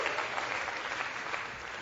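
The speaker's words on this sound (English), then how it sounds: "Y'all can clap for that" Applause from a seminar audience at a business presentation, steady and fairly faint, a dense wash of clapping that lasts the whole short moment with no voices on top.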